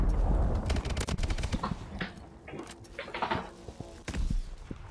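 Rapid gunfire in Call of Duty: Advanced Warfare EXO Survival shooting down small quad-rotor drones, loud clustered bursts of shots with thuds and clanks, close and punchy, in a few separate volleys.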